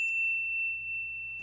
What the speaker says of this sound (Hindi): जब मोबाइल पर एक बीप की आवाज ने उसे चौंकाया